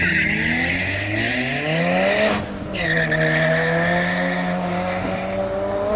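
An Audi RS5 race car launches hard from the line at a private Killarney circuit event, its engine climbing through gears in loud rising sweeps, with a brief shift dip midway and tire squeal alongside, close and continuous.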